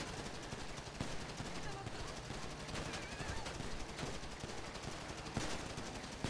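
Pistol fire in GTA Online pops in rapid, steady succession, a dense stream of shots mixed with other gunfire, fairly quiet in level overall.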